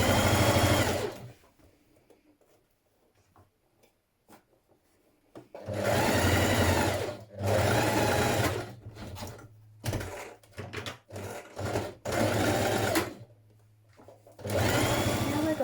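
A sewing machine runs along the side seam of a midi dress in several bursts of fast, even mechanical stitching, loud and close, separated by short quiet pauses, no speech.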